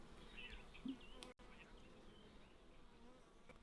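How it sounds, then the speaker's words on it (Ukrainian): Steady buzzing of honey bees humming together at a hive at close range, a dense continuous drone with a brief dropout partway through. "Це робоча бджола, яка працює в полі."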